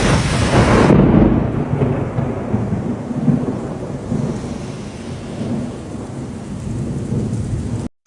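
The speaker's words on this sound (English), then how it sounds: "a severe thunderstorm rolled through Canberra at peak hour on evening, damaging roofs, flooding properties" A severe thunderstorm over Canberra, with loud, steady heavy rain and a deep rumble of thunder rolling through at the start, the downpour continuing densely until it cuts off abruptly.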